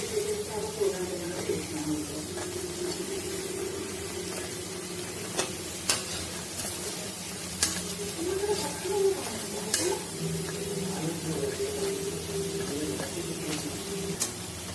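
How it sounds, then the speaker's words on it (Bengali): Shiuli leaf fritters frying in oil make a faint, steady sizzle with scattered small pops and crackles, heard quietly at a little distance with no one speaking. "বড়া ভাজাগুলো হয়ে গেছে।"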